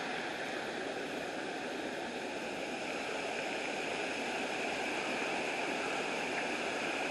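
Continuous, even hiss of moving water at a lake beside a manor house, a steady rushing wash like a weir or stream, unbroken throughout with no talking.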